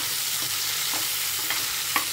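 Chopped vegetables for quinoa pulao are stirred in a hot pan, giving a continuous loud sizzling hiss with a few soft scraping knocks and no voices.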